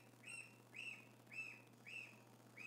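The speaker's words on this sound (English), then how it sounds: "He's going to wear his lungs out chirping." A young chick chirps loudly and insistently, five evenly spaced bright tweets in a steady rhythm over a low background hum.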